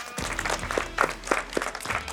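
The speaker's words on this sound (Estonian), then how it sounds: "Teeme talle suure aplausi." A crowd at a villa party claps for a bachata dance teacher, with steady rhythmic applause and a few sharp claps standing out, fairly close and lively over a low hum.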